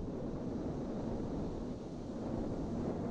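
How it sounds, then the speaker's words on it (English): Steady, broad rushing wind roars without a break, a deep low rumble beneath a hissing wash, loud and constant throughout. "That sounds like a tornado."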